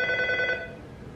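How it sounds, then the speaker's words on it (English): A telephone gives one short ring that cuts off after about half a second, leaving a quiet room hum. "I don't even feel like answering the phone."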